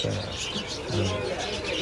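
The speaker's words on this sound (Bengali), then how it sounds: "তাদের কালেকশনে এখানে হিউজ কবুতর আছে, অনেক জাতের কবুতর" Pigeons of many breeds, including homers, coo in a crowded bird shop: soft, low, rolling coos repeat close by, with a busy room murmur and faint chirps beneath.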